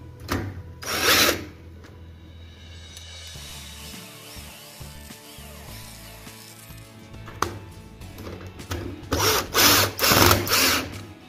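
A power drill bores a hole through a door to fit a double-handle door lock, with loud bursts of drilling at the start and again near the end, separated by quieter mechanical handling and tool noise.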